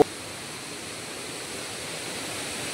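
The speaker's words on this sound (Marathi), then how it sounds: "हा बघा इकडे धबधबा आहे" Continuous broadband rush of the Savatkada waterfall, a steady even roar with no pauses and no voices.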